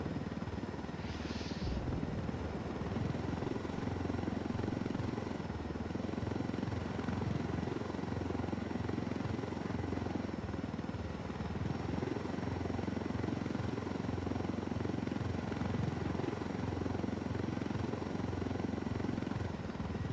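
Helicopter in the video game Ghost Recon Wildlands: a steady, loud rotor and engine drone runs continuously for twenty seconds, with a faint high chirp early on and no speech.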